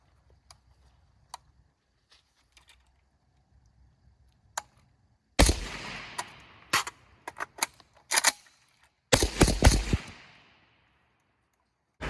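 Several sharp, loud gunshots from a CAT WB 718 rifle, fired singly and then in quick bunches with echoing tails across an outdoor range, after a quiet stretch of faint ticks.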